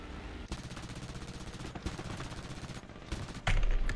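Aircraft machine guns hammer in War Thunder, a long run of rapid, evenly spaced shots with a brief pause before a louder closing burst, heard alone without talk.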